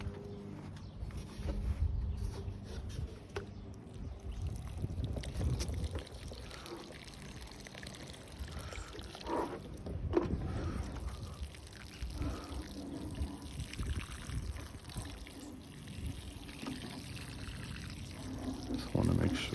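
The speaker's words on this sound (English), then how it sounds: "Now we can start pouring water." Water poured onto damp garden soil in an in-ground bed outdoors, a steady close splashing and trickling pour that runs on and off with no talk over it.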